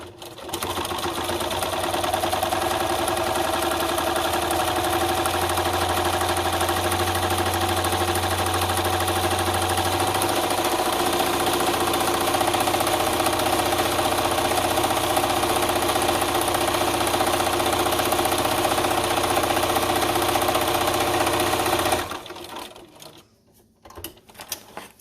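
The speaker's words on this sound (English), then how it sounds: "we're going to sew one more time to put the stitches from 1/2 inch from this side as well" A Bernina sewing machine stitches through a vinyl bag strap in one long, steady, close run, its motor humming with a fast mechanical rattle before stopping abruptly, followed by a few faint handling clicks.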